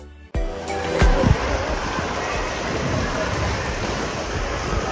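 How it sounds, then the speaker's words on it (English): Artificial waves roll through an indoor wave pool at Center Parcs Longleat, opening with a sudden thump. A broad, steady rushing wash of water follows and carries on close and loud throughout. "The main pool also has intermittent waves,"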